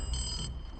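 A telephone rings in the TV show Stranger Things with a bright, metallic ringing burst that stops abruptly over a low background rumble, with no talk in between.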